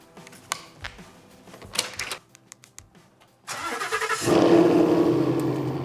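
Some clicks and rattles, then a car engine cranks and roars to life loudly, settling into a steady, rumbling idle.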